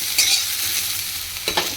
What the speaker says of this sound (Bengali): এখানে কপিগুলো ভাজছি।